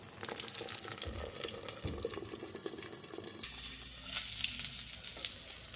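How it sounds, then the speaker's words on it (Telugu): An omelette sizzles in a pan after water is sprinkled in and a lid is put on, a steady close hiss and crackle with faint clinks, and no talk. "ఆమ్లెట్ ఫ్లఫీగా రావాలంటే కొంచెం వాటర్ స్ప్రింకల్ చేసి మూత పెట్టేయాలి."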